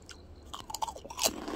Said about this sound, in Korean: 바삭바삭.